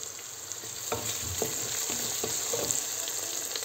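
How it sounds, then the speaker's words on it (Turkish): Tomato and red pepper paste fry with sauce in a pan, a steady close sizzle punctuated by several soft scraping stirs. "Salçamız da biraz şöyle güzel kavrulsun sosu ile"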